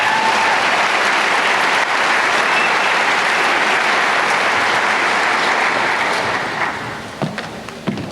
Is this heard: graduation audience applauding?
yes